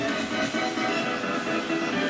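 A live band plays to a crowd of thousands at Shelleys nightclub, a dense, loud, continuous wash of amplified music and crowd noise with no clear breaks.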